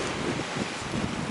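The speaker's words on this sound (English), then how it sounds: "Look at this view, and it's so windy." Strong wind buffets the microphone at a coastal lookout at Point Nepean, a loud, constant gusty roar with no speech over it.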